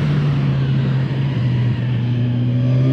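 A 2020 Kawasaki Ninja 1000 SX motorcycle accelerating with a loud, steady engine drone whose pitch shifts slightly as a quick-shifter gear change goes through, heard up close over continuous road and wind noise.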